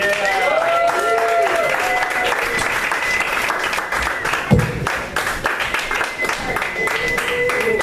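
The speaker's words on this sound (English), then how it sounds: "Give a round of applause for Tim Finnegan." Loud audience applause and cheering at a stand-up comedy show as comedian Tim Finnegan is welcomed to the stage, dense continuous clapping with crowd noise filling the room throughout.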